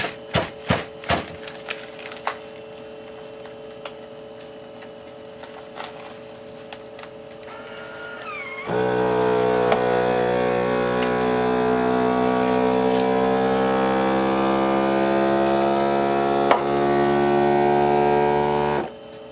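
A vacuum sealer sealing a bag of rice: a steady motor drone with a harmonic hum starts abruptly partway through and runs continuously until it cuts off. Before it, quiet clicks and handling noises.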